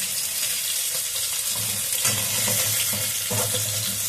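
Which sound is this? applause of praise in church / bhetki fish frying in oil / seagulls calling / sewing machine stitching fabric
bhetki fish frying in oil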